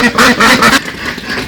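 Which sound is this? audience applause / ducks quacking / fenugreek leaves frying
ducks quacking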